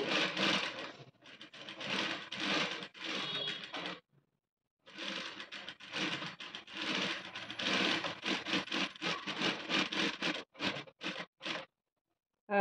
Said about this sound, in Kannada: ನಾನು ಮುಂಚೆನೇ ಸ್ಟಿಚ್ ಮಾಡಿಬಿಡ್ತೀನಿ.